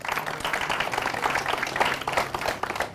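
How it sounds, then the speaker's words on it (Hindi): An audience at a farmers' question forum applauds loudly for the experts, producing a dense, continuous wash of many hands clapping at steady volume throughout. "मैं चाहूँगा एक बार जोरदार तालियां बजाकर आप शुक्रिया करें हमारे विशेषज्ञों का"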